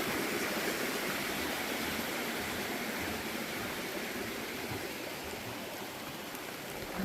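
A steady broadband rush of flowing water at a stream water source on a hiking trail near Beauty Spot Gap, with rain falling, constant and close throughout with no voices.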